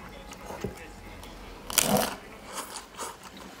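A hard taco shell from a Kaldi taco kit gets a single close, sharp crunch as someone bites into it, followed by faint softer chewing in a quiet room.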